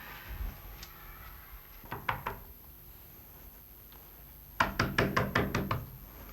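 Knocking on a door indoors, a couple of brief knocks, then a pair of raps, then a rapid burst of about six firm knocks, fairly close and otherwise quiet.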